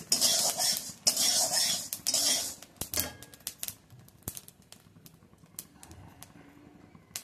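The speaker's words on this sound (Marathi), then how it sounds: "लाया फुटायला लागलेल्या आहेत." Grains and flour mix dry-roasting in a pan for thalipeeth bhajani, starting to pop, with a dense rattling scrape of stirring up front, then scattered sharp little pops and clicks that thin out toward the end.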